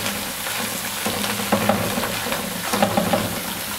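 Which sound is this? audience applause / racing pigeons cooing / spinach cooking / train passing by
spinach cooking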